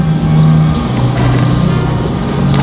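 An electric grinder breaks down fennel seeds for a cocktail syrup with a loud, close, continuous whirring roar that holds steady throughout.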